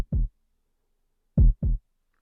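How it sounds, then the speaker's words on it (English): 808 bass drum sample played alone as a heartbeat sound effect: a single deep boom followed by a close pair of booming low thumps, clean with no other sound. "this time with an 808 sample, which sounds like this on its own"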